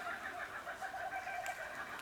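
Birds calling outdoors on the New South Wales south coast, a run of rapid clucking, chattering notes at moderate distance over a faint background hiss, with no voices.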